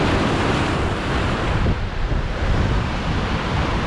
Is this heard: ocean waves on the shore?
yes